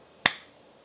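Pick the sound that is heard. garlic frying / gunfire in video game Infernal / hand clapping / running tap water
hand clapping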